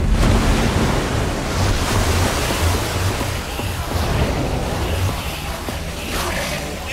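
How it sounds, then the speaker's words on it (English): In Minecraft: Story Mode, water gushes out from a machine as a loud, rushing torrent up close, surging at first and then settling into a steady churning flow. "I don't know how much water this thing is going to kick out."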